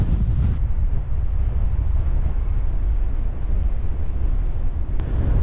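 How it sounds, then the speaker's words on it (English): Strong storm wind buffets a cyclist's foam-covered GoPro microphone near Gelston Village, overlooking the Trent Valley, producing a loud, continuous, rumbling roar that stays steady for the whole stretch. "But it's bloody windy."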